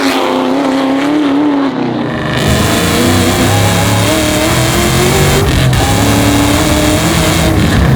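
A 1000 hp Whipple-supercharged Terminator Cobra accelerating hard on a bumpy road, its loud, close engine roaring and rising in pitch through the gears with a constant high supercharger whine.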